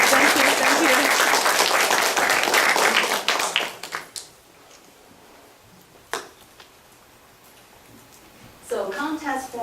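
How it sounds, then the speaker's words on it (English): Audience at an elementary school orientation applauds for the chair, loud dense clapping for about four seconds that thins to a few scattered claps, then quiet before a voice starts speaking. "I think we all should give her a round of applause"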